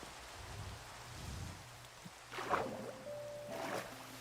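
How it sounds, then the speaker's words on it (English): Rain falls in Minecraft as a soft continuous patter, with a few brief brighter splashes and a faint tonal hum over the steady shower. "now it's raining"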